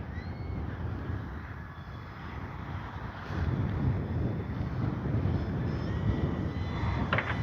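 A Kavan Pilatus PC-6 Porter RC plane, a stable utility cruiser with lights and flaps, flies past at a distance with a steady faint motor drone under heavy wind buffeting, which grows louder partway through.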